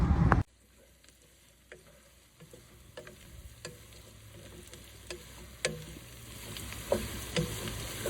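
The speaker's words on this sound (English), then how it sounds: "Celery and onions starting to soften up." Celery and onions fry in a pan with a quiet, steady sizzle broken by scattered small pops and crackles, after a brief loud burst at the very start.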